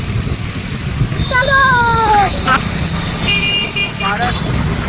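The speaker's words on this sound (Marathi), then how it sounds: "बाहेर गाडी चालवतोय" A car drives along a road with a steady engine and road rumble, and short horn toots sound in the traffic nearby. A person talks over the noise.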